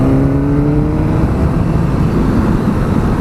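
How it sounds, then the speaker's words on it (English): A 2017 Suzuki GSX-S750 motorcycle engine revs up close, its pitch climbing steadily as it accelerates, then settles into a rough, rumbling roar. "Love the sound this engine makes, fantastic."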